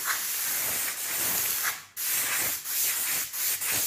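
A spray paint can hisses out black paint in several short bursts of airy spray separated by brief pauses, close and clear with no talking.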